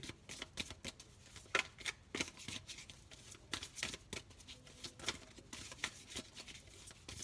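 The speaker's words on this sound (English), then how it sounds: "These cards are very hard to shuffle." A stiff, hard-to-shuffle deck of cards being shuffled in repeated riffling bursts, crisp papery flutters recurring steadily, close and clear with no talking.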